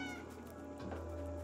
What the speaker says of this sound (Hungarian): Szóval tudunk olyat, hogy nyávogunk.